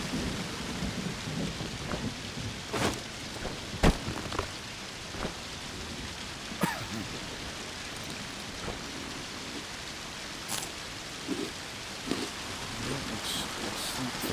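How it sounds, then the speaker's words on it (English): Steady rain hisses continuously in the Green Hell survival game, with occasional sharp cracks and low rolls of thunder breaking through a constant wash of falling water and no voices. "Get rid of this rain effect."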